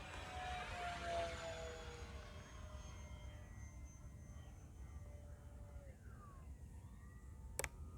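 A pair of P-5D June Nites model airplanes make a low pass overhead. Their faint, distant motor whine falls in pitch as they go by, then fades into background hiss, with a sharp click near the end.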